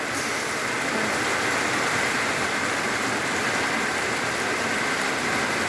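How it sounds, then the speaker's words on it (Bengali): Rain falls heavily outside a house, a constant, loud, broadband wash that holds steady throughout with no talking. "একদম তোরে বৃষ্টিটা হচ্ছে"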